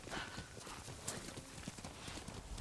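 Horse hooves galloping in the video game Ghost of Tsushima, a rapid, steady clip-clop of hoofbeats at moderate distance, quiet and continuous with no talking.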